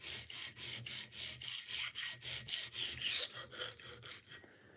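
A knife blade drawn back and forth across a diamond sharpening stone, a steady rhythmic rasping of about a dozen strokes, close and fairly quiet, with no talking.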